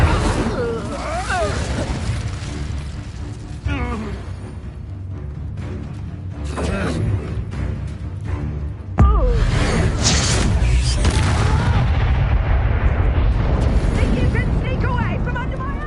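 An Incendio fire spell is cast in Hogwarts Legacy, a loud sustained whooshing roar and rumbling burst that swells midway, with speech over it.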